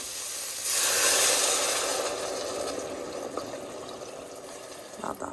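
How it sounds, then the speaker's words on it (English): Water pours from a tap into a hot pan of browned vegetables and mushrooms, a loud hissing rush that swells at first and then eases into a softer, steady bubbling sizzle. "cover this with water"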